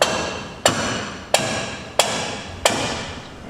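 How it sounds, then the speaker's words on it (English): Wrench work tightening nuts and bolts on a 1989 Ford F-150, five sharp metallic clacks at a steady, roughly two-thirds-second rhythm, close and crisp against a quiet background. "I'm gonna tighten those two nuts and bolts and whatnot down"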